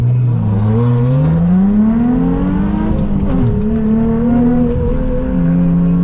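A Porsche GT3 sports car drives by with a loud, rising engine note that climbs and holds before easing, heard close over road noise.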